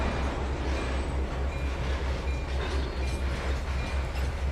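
A train runs in the Trainz 2022 railway simulator, giving a steady low rumble with faint rhythmic clatter that stays even and continuous throughout, with no talk.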